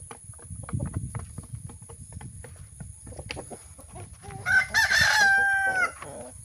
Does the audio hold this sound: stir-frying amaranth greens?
no